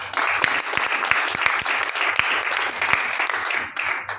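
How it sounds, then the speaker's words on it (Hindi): Loud, dense applause from an audience at a product meeting, many hands clapping steadily with a few sharper individual claps standing out, continuous throughout. "जिसके लिए बहुत जोरदार ताली सबके।"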